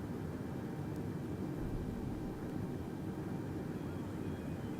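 A passenger airliner taxiing on the runway at Christchurch, heard from inside as a steady, dense engine roar and hum with no pauses, moderately loud and with no talk.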